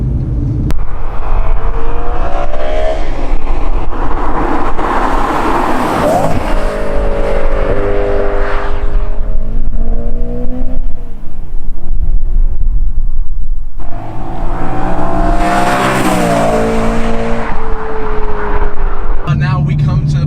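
A BMW M3's engine revs hard twice, each rise swelling into a loud, throaty exhaust roar before falling back to a rumbling idle.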